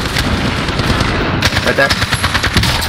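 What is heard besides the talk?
shotgun gunfire in a video game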